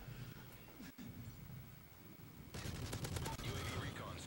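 Gunfire from an assault rifle in the video game Modern Warfare 3, bursts of rapid shots that grow denser and louder toward the end, mixed with game noise and a player's voice talking.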